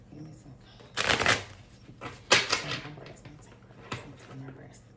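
Tarot cards are shuffled by hand in two loud riffling bursts followed by a softer tap, close up, with quiet room noise between.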